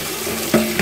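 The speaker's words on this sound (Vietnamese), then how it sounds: "Xả nước vào." Water from a kitchen tap runs into a sink as salted pomelo pith is rinsed, a close, steady splashing stream with brief surges as the flow hits the pith.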